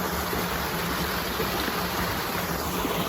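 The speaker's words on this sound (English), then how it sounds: "There's a lovely stream running into the canal here." A stream running into a canal on a countryside walk, its steady broadband rush of flowing water close by and continuous, with no talk over it.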